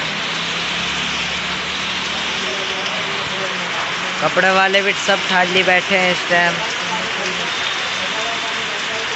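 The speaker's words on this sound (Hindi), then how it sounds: "ये देखिए बारिश कितनी तेज पड़ रही है, पानी भर गया सड़क पर भी।" Heavy rain pours steadily onto a waterlogged street in Bihar, a dense continuous hiss throughout, with someone talking over it partway through.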